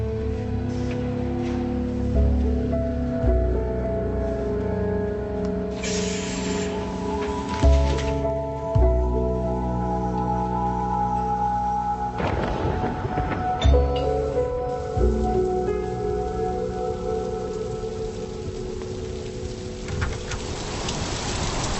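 Steady rain hisses throughout, mixed with a low droning background and a few soft thumps and shifts in tone.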